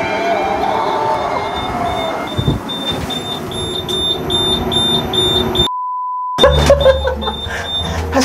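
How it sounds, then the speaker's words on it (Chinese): An electronic entry system at a cleanroom entrance gives a steady series of short, high beeps over a constant mechanical hum, with a brief sustained tone partway through. "他现在哔哔哔，是我可以进去的意思"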